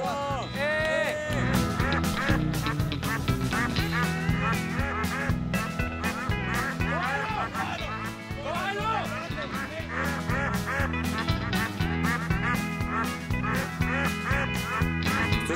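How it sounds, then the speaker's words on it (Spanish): A flock of ducks quacks loudly and continuously on a farm, overlapping calls up close, with voices in the background. "¡Pato al agua!"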